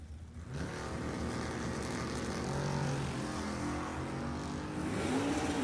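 Chevrolet Camaro and Chevrolet Nova drag race cars launching side by side at a drag strip, a loud sustained engine roar with rising revs that holds steady throughout, without any talk.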